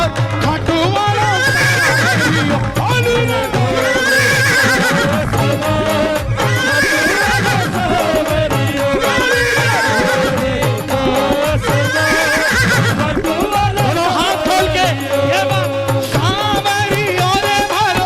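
A loud horse neighing and whinnying sound effect repeats through a Khatu Shyam devotional bhajan, the drawn-out whinnies recurring every few seconds over dense music.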